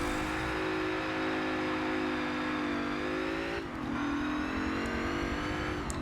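Ford Falcon XR8 A-Class race car in Forza Motorsport 7 at Sebring, engine droning loudly and steadily with rising harmonic pitch, a brief dip as it shifts gear, then climbing again under power, close and continuous.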